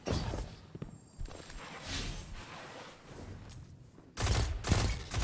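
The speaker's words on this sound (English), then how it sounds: "this pulse rifle is nasty" Pulse rifle gunfire in the Destiny 2 video game, quick bursts of rapid shots with a louder, denser burst near the end, plus softer thuds and movement in between.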